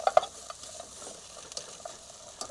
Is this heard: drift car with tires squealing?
no